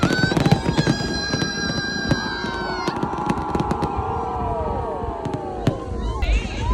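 New Year's Eve festival fireworks bursting overhead in a steady run of booms and crackles, with a large crowd murmuring throughout and a few louder reports near the end.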